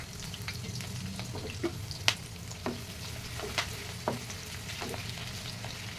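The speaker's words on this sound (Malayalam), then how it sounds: "അത് നന്നായിട്ടൊരു ഗോൾഡൻ കളർ ആകുന്നവരെ നമുക്കതൊന്ന് ഫ്രൈ ചെയ്തെടുക്കാം." Ginger, garlic and green chili fry in a pan with a steady, soft sizzle, broken by a handful of sharp clinks and scrapes as the mixture is stirred, with no voices.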